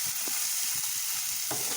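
Tomatoes and moong sprouts frying in a pan, a continuous loud sizzle with soft rhythmic stirring scrapes through the short stretch, no voices.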